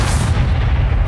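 A Confringo spell explosion in the Hogwarts Legacy video game booms loud and close, a dense low-heavy blast that sustains through the moment with a rumbling, crackling tail.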